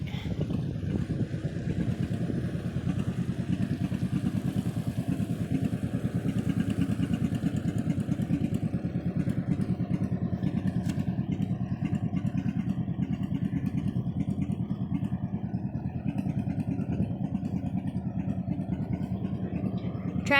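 Heavy pulling-tractor engines at a summer tractor show in Canandaigua, New York, rumble in a loud, steady drone for the whole stretch, with clatter and crowd bustle around them.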